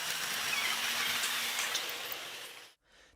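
Gimpo Goldline light rail train pulling into Janggi station during the crowded morning rush, a steady broadband rumble and hiss of wheels on track, loud and close, fading to quiet near the end.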